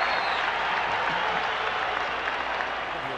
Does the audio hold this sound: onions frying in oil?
no